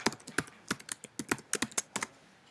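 Rapid, uneven clatter of keys on a computer keyboard as code is entered, about a dozen crisp, close keystrokes in quick bursts with no talking.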